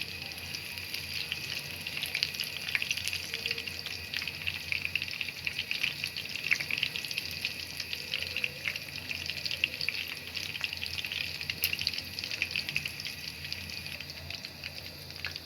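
Chicken pieces fry in oil mixed with a little ghee, giving a steady, continuous sizzle at close range that holds evenly from start to end with no voices.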